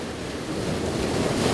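Sea waves wash steadily against a rocky shore on an island where seaweed is harvested at low tide, a dense, loud roar of surf with wind noise and no voices.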